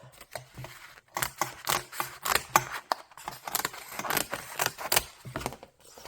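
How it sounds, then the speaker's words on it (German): Corrugated cardboard is roughly trimmed with scissors, with a close series of crunchy, uneven cuts and rustles in irregular bursts separated by short pauses. "Ich schneide hier mal erstmal grob ab"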